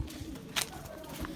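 A pigeon gives a faint, short coo outdoors, a soft low murmur with a brief flutter-like burst in the middle, quiet overall.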